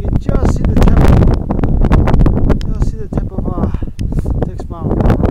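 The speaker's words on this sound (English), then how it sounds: "It's pretty windy." Gusty wind buffets the microphone in uneven rumbling bursts on a cloudy mountain summit while a person talks over it up close.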